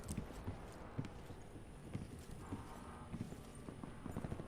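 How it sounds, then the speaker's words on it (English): Footsteps in Call of Duty Black Ops 4 Blackout mode, a steady run of thudding steps that sounds almost like hoofbeats, moderately loud against a busy game background with no talk. "I hear footsteps around, so I'm trying to find out where these people are at"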